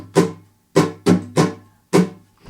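Acoustic guitar chords are strummed in a looping pattern on beats one, two and four, with five bright, ringing strokes and a gap where the third beat is skipped, heard close and alone.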